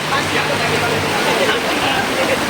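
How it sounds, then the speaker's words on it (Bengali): Heavy rain pours down in a steady, dense roar that stays loud and unbroken, with a voice speaking over it. "প্রচুর বৃষ্টি হচ্ছে, প্রচুর জোরে বৃষ্টি হচ্ছে"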